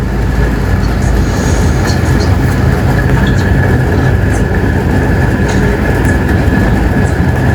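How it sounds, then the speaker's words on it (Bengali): A Bangladesh Railway train rattles and jolts steadily along the tracks, a dense continuous rumble and clatter at close range, with a faint high whine above it and no voices. "যা লাফাচ্ছে ট্রেন"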